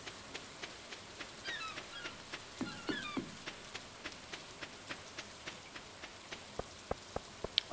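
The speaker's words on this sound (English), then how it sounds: "Of course I know it's raining." Rain falls in the Stardew Valley video game as a steady soft patter. Regular sharp ticking drops and a few brief chirpy effects sit over it, with no voices.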